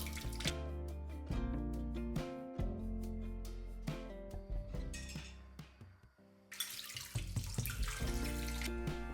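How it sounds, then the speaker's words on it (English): Tap water running over metal stove burners being rinsed in a kitchen sink, a steady splashing stream with clinks of the burners, close up and fairly quiet, with no talking. "I will just rinse them with water and dry them properly."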